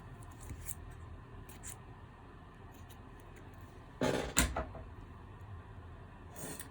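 A single sharp snip of sewing thread, a short close crisp cut standing out from a quiet background, with a few faint small handling taps around it.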